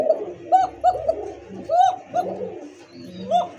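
A pair of pigeons, a pure cock among them, coo in repeated short rolling calls, close and clear, with brief pauses between bursts.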